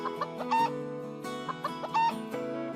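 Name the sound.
rooster clucking in a cartoon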